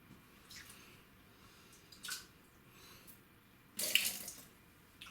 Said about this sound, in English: So just squeezed most of the water out of the brush.